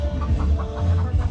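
Hotel chickens in western Cuba clucking close by, a short run of soft repeated clucks in a steady rhythm over faint background noise.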